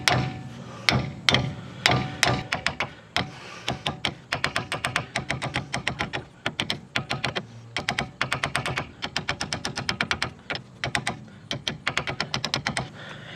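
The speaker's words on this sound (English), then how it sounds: "take a hammer and just kind of hit this a little bit, tap it, because it'll free this nut up a little bit" A hammer raps repeatedly on a tie rod end nut on a Trailblazer, giving sharp metallic taps in quick, uneven bursts with brief pauses between runs, close and clear.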